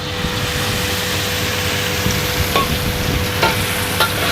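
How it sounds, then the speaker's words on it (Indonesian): Shrimp sauce for fu yung hai is stir-fried in a wok, a loud steady sizzle with a low rumbling undertone and a few scraping stirs and clinks, close up with no speech. "Gak usah ditumis terlalu lama, yang penting wangi aja udah."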